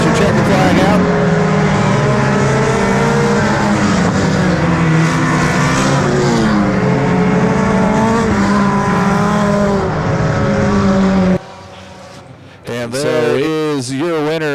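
Front-wheel-drive four-cylinder race cars at Thunder Mountain Speedway roar past loud and close under a track announcer's voice. Engine pitch rises and falls as cars pass, then drops away abruptly before a final car whines by near the end.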